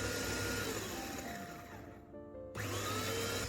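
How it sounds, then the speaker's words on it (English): A blender grinds dried peppers into paprika powder with a steady, fairly quiet motor whir. It cuts out for a brief moment, then starts again. "blend until the peppers turn into a fine, even powder"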